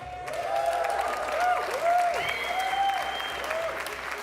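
Large crowd at an esports racing event applauding and cheering loudly and continuously, with whoops and a steady wash of clapping and a presenter's voice briefly over it.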